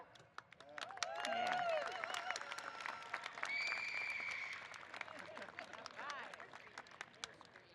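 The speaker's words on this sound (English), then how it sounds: "let's give all of our new students a big cheer." A large audience at a 2024 new student convocation bursts into loud, sustained cheering and applause, with whoops and shouts rising over steady clapping that swells, dips and carries on to the end.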